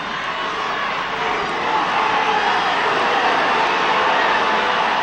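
An excited crowd roars at a 1975 high school wrestling final, a loud and steady wall of cheering that swells slightly toward the end.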